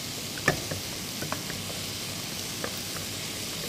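Walnuts and onion frying in oil for kibbeh filling, a steady hiss of sizzling with a few faint pops and stirring clinks, close and continuous, no talk over it.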